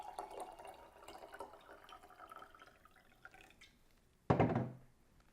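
Water glugs and splashes as it is poured into a glass, one short burst near the end after a quieter stretch of faint dripping and clinks.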